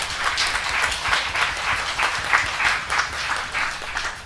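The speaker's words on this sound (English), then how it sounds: "please give a warm welcome to Ajahn with a big round of applause" An audience applauds to welcome a speaker, a dense, steady patter of many hands clapping together, fairly loud and continuous throughout.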